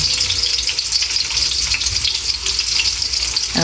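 Garlic frying in hot oil until crispy for Filipino bopis, a loud, dense, continuous sizzle with occasional stirring scrapes close by, no talking.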